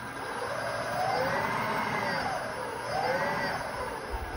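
Lexus GS450H hybrid drivetrain, bench-mounted, with its output shaft spun up by electric motors: a steady whining hum with rising and falling tonal sweeps, fairly close, under a constant background noise.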